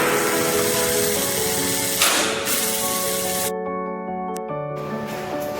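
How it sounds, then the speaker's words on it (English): A TX200P restraint device fires its remote restraint and pepper spray cartridges, giving a loud broadband spray hiss with a sharp burst near the middle. Steady electronic tones sound throughout and continue after the spray cuts off abruptly. "Demonstration of remote restraint and pepper spray."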